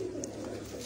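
A pigeon gives a soft, low coo close by, faint and brief against a quiet background.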